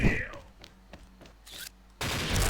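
Single gunshots from an HK gun in the Xshot video game, fired in a headshot test. Sharp isolated reports come in brief succession, followed by a louder burst near the end, with a voice speaking over them.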